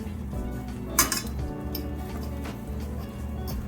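Steak pieces for pepper steak clink against a covered pot as they are turned with a utensil, one sharp metallic knock standing out among softer scrapes over a steady low sizzle, with no talking.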